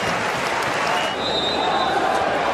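A near-capacity stadium crowd at an A-League football match between Adelaide United and Sydney FC makes a continuous broad roar of cheering and clapping, steady and dense throughout.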